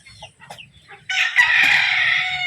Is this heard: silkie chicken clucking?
yes